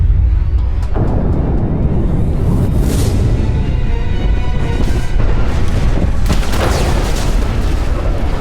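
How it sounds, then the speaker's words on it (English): A huge explosion destroys a facility in the video game Mass Effect 2, a loud, sustained roaring rumble with repeated blasts and crackling debris bursts layered throughout. "that was kind of an unnecessarily big explosion"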